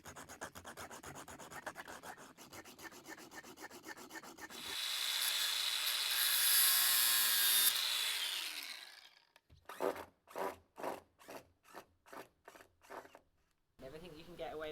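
A hand hacksaw cuts through pipe during a home renovation project, with steady rasping strokes, then a harsh burst of cutting, then a quick series of short, distinct strokes.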